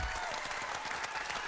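Brief burst of audience applause, a dense continuous patter of many hands clapping at steady volume from start to finish.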